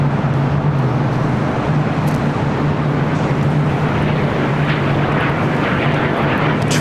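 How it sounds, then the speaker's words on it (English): A CRJ 700ER regional jet arriving at LAX gives a loud, steady engine roar with a low droning tone throughout, continuous and fairly close, with no talking. "Next arrival at United Express, SkyWest Flight 5647, coming in from Santa Barbara, California. CRJ 700ER"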